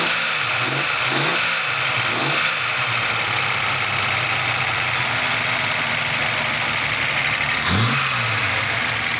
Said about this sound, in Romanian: Deci așa trebuie să sune un 6 cilindri